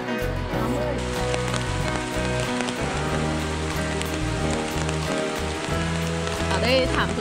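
Heavy rain pours in a primary forest at Xuan Son National Park, a dense continuous hiss that fills the whole clip, with music-like tonal layers and low rhythmic pulses running underneath.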